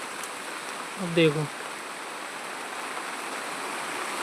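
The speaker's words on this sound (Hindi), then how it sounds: "बहुत तेज पानी बरसन लगा देखो एकदम से ही, अच्छा खासा बरसन लगा देखो।" Heavy rain pours down steadily in a dense, even hiss from start to finish, with a voice speaking briefly over the downpour.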